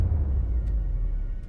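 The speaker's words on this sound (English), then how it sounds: "And this one has a nice punch to it." Punchy cinematic impact hit gives a dense, heavy low-end thump that sustains as a loud rumble over its short length, with no talk.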